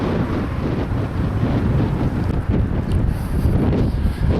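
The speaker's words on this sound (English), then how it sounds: "the wind picks up" Strong wind buffets the microphone at an outdoor Premier League football match beside a racecourse grandstand, a continuous loud low rumble with gusty swells throughout.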